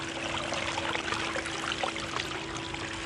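Wet, muddy paydirt pours from a pan into a Keene 151 sluice box with water running through it, making a steady, continuous wash of splashing and trickling with no talking.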